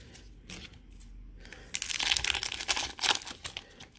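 Pokemon trading cards being handled and shuffled, quiet at first, then brisk close slapping and sliding bursts of card stock.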